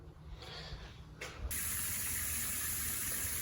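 A Chinese reverse-osmosis water filter runs and flushes through its wastewater line, giving a steady hissing spray that grows louder and fuller partway through, with no voices.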